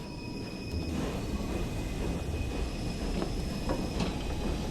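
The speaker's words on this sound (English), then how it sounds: "It's a lovely sounding loco. It's just great to be driving the 4F." Fowler 4F steam locomotive running in Train Sim World on the West Somerset Railway, a steady broadband rumble and hiss with faint clanking and rail clicks, continuous and fairly loud with no talk.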